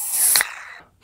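Nitrogen-infused Pepsi cola is poured hard into a glass, giving a loud, close hissing gush that lasts under half a second and then tapers into fading fizz.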